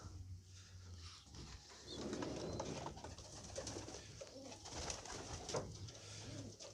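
Racing pigeons coo softly and continuously inside a pigeon loft in Nowa Sól, a low murmuring chorus with faint rustling and a steady low hum beneath, close by and fairly quiet.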